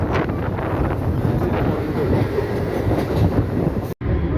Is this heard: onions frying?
no